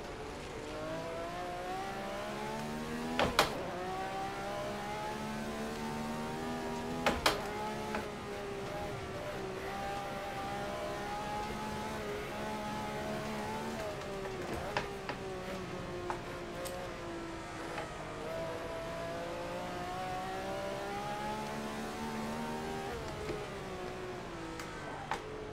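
In a racing sim, a Ferrari 312 engine holds a steady, buzzing, harmonic-rich drone whose pitch rises and falls through revs and downshifts, punctuated by a few sharp clicks or blips, with no voices.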